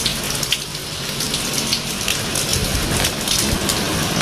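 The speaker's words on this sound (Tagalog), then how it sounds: "malakas yung tulo ng tubig. Pero hindi na malakas yung ulan. Yung galing lang sa bubong." Heavy rainwater pouring off a roof and splattering steadily, a dense continuous patter of drips hitting a surface up close, loud and unbroken.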